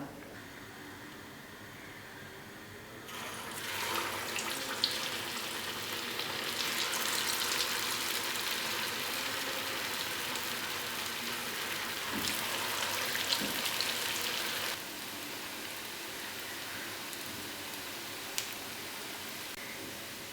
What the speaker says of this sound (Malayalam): ഷേപ്പ് ചെയ്തെടുത്ത ഉന്നക്കായ ഇനി ഫ്രൈ ചെയ്തെടുക്കാം